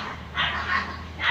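A pet dog barks in quick bursts, several yips and barks close by in a household setting, with no talk over them.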